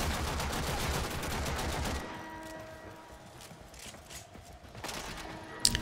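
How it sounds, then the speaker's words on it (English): Gunfire in the video game Warframe: a dense burst of rapid shots for about two seconds, then quieter scattered shots and mechanical clatter over a low background. "Oh, someone is shooting."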